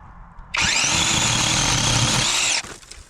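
Battery-powered chainsaw bites through a small piece of wood about three-quarters of an inch thick, a loud high whining cut lasting about two seconds after a quiet start, then stopping abruptly.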